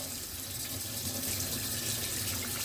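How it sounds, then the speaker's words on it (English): Cold tap water runs steadily from a faucet, splashing over a cow tongue being rinsed in a sink, a constant close hiss with no talking. "just use cold water and get it all rinsed off really good."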